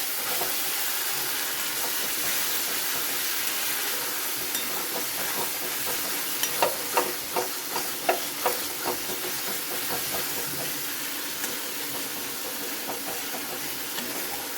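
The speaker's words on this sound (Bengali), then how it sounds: "ভালো করে মশলাটা আমি কষিয়ে নিচ্ছি" Spice paste frying in hot oil for a Bengali koi fish curry, with a steady sizzling hiss throughout and a run of rhythmic stirring scrapes in the middle.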